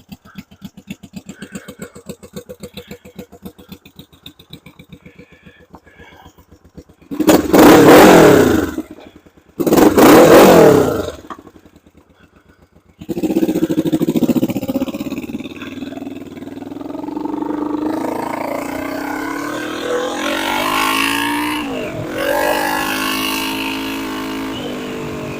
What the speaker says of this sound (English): we're back here with the 1972 Honda CB450, going for a little cruise